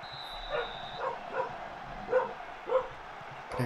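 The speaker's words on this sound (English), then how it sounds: "Hear a dog in the background." Dog barking in the background, four or five short muffled yips spaced about a second apart, faint and distant against a quiet room.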